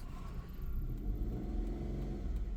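A car pulling away as the clutch is eased out during a driving lesson, a low engine rumble that swells slightly and steadies as the vehicle starts to move, heard from inside without talk.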